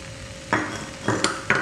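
A spoon scrapes and stirs mushroom pepper fry in a pan in three short bursts over a soft, continuous sizzle, close and clear with no voices.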